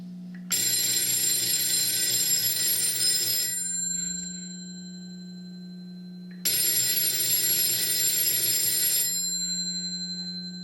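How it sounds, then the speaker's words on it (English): An electric telephone bell on a 551A PBX telephone set rings loudly in two long bursts separated by a pause, over a steady low hum. "may now be alerted by ringing the telephone set"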